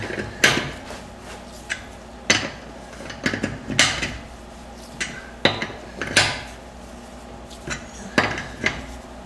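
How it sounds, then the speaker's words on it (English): A lug wrench turns against car wheel lug nuts, making a series of sharp metallic clanks and ratcheting knocks at irregular intervals, close and fairly loud. "you want to tighten the lug nuts one final time"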